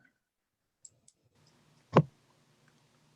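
A computer mouse clicks once, fairly close, after a couple of faint ticks, in an otherwise quiet room.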